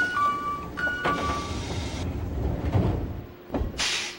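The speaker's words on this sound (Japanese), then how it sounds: "ドアが閉まります。" Sliding doors of an HK100 train closing on the Hokuhoku Line in the Densha de GO! Professional train simulator game: a tonal chime and clunks early, then a sharp thud near the end over a steady low cabin rumble.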